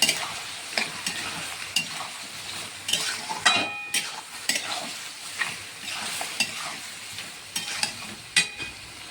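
Mutton frying with spices, salt, chili and turmeric powder in a pan for a red mutton and potato curry gives a steady close sizzle, broken by repeated sharp scrapes and knocks of a stirring spoon, with no voices.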